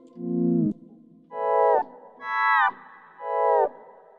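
A Nord Stage 3 synth plays a sawtooth-like patch with a delayed, softened attack, four sustained notes in turn with pitch bends sliding them upward, a reverb tail following each; loud and clear with no talking over it.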